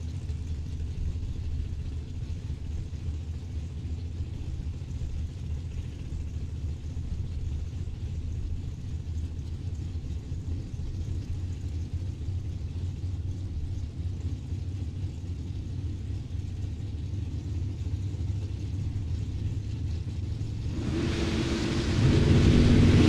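Chantel Lorenz's Camaro drag race car at a Super Pro drag racing event gives a steady, deep engine rumble that swells abruptly into a loud, harsh roar in the final seconds.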